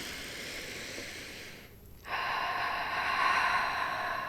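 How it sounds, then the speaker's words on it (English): One deep breath in during a guided meditation, a short pause, then a long, steady exhale close to the microphone, with no talking over it. "Let's take a deep breath in. Close your eyes as you exhale."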